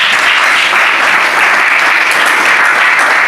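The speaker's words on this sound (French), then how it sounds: "est-ce qu'on peut acclamer très fort pour le Seigneur?" A church congregation applauds loudly for the Lord in a dense, steady wash of clapping that holds at full strength throughout, with no voice heard over it.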